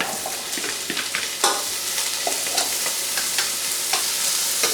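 A small vegetable garnish sautés in olive oil for couscous, with a close, steady sizzle and sharp clinks and scrapes from stirring, and no talking.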